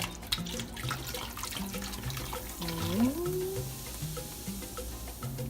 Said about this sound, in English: Let's pour in our beer.